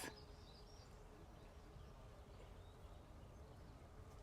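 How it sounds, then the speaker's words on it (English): Faint, steady buzzing of bees fills the background in a garden with blooming wisteria, a soft continuous hum with no talking. "Can you hear the bees?"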